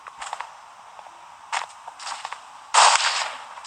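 Sniper rifle gunfire in a video game: a few sharp shots and bursts spread out across a few seconds, the last one loudest, over a quiet background with no talking.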